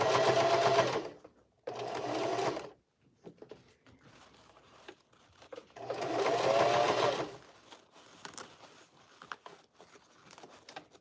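Sewing machine stitching the brim seam of a fabric bucket hat, two loud bursts of fast rhythmic stitching separated by pauses with soft fabric handling and faint rustling between.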